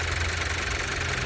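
An Audi Q2 S Line's turbocharged 1.5 TFSI petrol engine runs at a steady idle, a close, continuous mechanical hum with a faint ticking knock and no talking.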